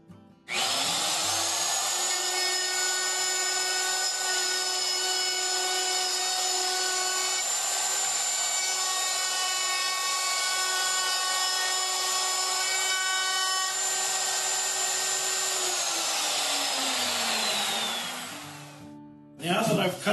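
A power saw whines loudly and steadily as it cuts a dado through a wooden workpiece held in a clamped jig, spinning up at the start, holding pitch for about seventeen seconds, then winding down, with no voices.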